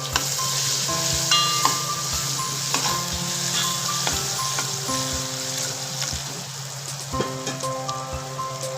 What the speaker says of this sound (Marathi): कांदा चांगला लालसर होईपर्यंत आपण परतून घेऊ.